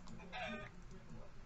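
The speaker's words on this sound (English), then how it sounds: "I'll let these chickens be" Chickens cluck in the Minecraft video game, a short burst of clucking over a low background hum with faint talk.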